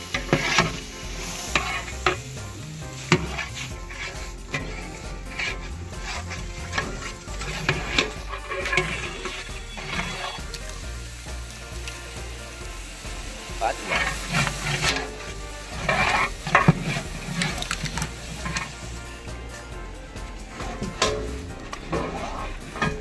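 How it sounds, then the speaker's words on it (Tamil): Mint, ginger and garlic masala sizzles in a pan for chicken biryani while a spoon scrapes and stirs it, giving a steady frying hiss with repeated clatters and scrapes close by. "புதினா இஞ்சி பூண்டு மசாலா எல்லாம் சேர்த்தாச்சு நான் வதக்குனேன்"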